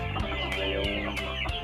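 Backyard flock of chickens in a Filipino breeding coop, heritage breed crossed with native birds, clucking steadily and close by, several birds overlapping in a continuous busy chorus with no talk.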